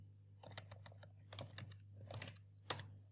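Someone types on a computer keyboard, with quick bursts of faint clicky key presses in short clusters and a few louder taps, all quiet under a steady low hum.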